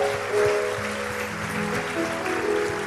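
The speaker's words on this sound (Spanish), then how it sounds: "Dale un fuerte aplauso al Señor." A church congregation applauds for the Lord, steady dense clapping with organ or keyboard chords sustained underneath throughout.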